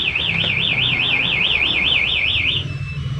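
Smart key alarm on a Yamaha NMAX scooter wails with a fast, warbling high-pitched siren tone, loud and steady for under three seconds before cutting off, with no talking.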